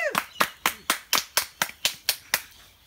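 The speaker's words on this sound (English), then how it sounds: "And obviously that warm round of applause lets them know that they're surrounded by love" Wedding guests give a round of applause at a mock wedding ceremony, heard as about ten sharp, evenly spaced claps, fairly close and moderately loud, with no talking.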